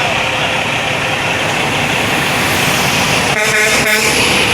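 Kenworth W900 truck with a Cat C13 engine and a poor muffler, rumbling loudly and steadily throughout, with a brief harsh tonal blast near the end like a horn.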